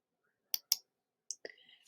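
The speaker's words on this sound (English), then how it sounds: "I'm going to click on Insert Citation." A computer mouse clicking in Microsoft Word, two crisp close clicks in quick succession followed by a third, then a faint breathy voice murmuring briefly, in an otherwise silent room.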